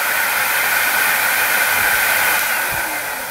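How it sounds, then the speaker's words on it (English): An air track blower runs steadily for a school acceleration experiment, a loud continuous broadband whoosh of air that holds constant throughout with no talking. "We hold on to the glider, turn the blower on"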